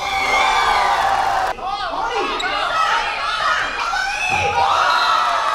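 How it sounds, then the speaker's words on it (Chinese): Crowd cheering and applause at an outdoor three-on-three parent-child basketball exhibition game in Keelung. Basketballs bounce and voices shout in a busy backdrop, with someone narrating loudly over the whole scene. "掌声欢声雷动"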